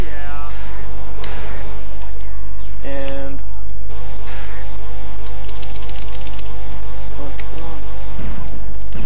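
Chainsaw attacks in the video game Evil Dead Regeneration, a loud buzzing saw engine revving in repeated bursts over game music and effects, with a person talking over it.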